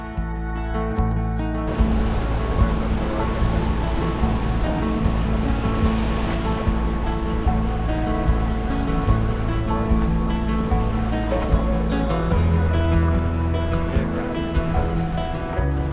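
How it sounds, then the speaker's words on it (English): Ocean waves break continuously against an eroding coastline near Ngawi, a loud, dense roar of surf with wind and no pauses. "Those waves are just wearing away at the land."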